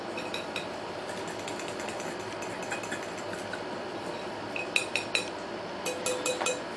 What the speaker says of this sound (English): to work with my cheese sauce and beat it down the way I want it, make sure there's no lumps in it